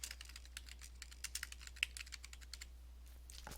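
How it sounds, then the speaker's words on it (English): Someone types on a computer keyboard, a steady stream of quiet, rapid key taps close by over a low electrical hum, with a brief pause near the end. "I want to start typing my paper."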